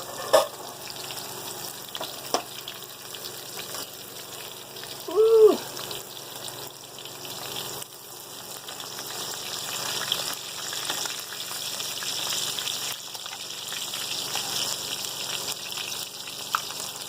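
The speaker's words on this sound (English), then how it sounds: "Get your shrimp down in the oil." Breaded shrimp frying in hot old fish grease, a steady close sizzle and bubbling hiss running throughout, with a brief clink near the start and a short splashy burst partway in.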